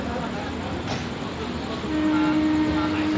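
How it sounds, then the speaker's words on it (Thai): Express train 13 from Bangkok to Chiang Mai pulls out of Samsen station with a low rumble and rolling rail noise. A steady tone rises midway, and the sound is heard from on board with no talk. "ออกจากสถานีสำเสนเรียบร้อยนะครับผม"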